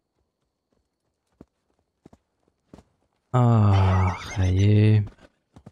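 A horse walks in the Assassin's Creed Valhalla video game, giving a few scattered, soft hoof clops over quiet ambience, before someone speaks briefly.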